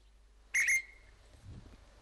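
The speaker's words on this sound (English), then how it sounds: "Once the guard has blown his whistle and lowered his flag" Guard's whistle at a steam railway station on the Isle of Wight, a single sharp shrill blast of about a quarter second, fairly close, followed by quiet station ambience with a faint low rumble.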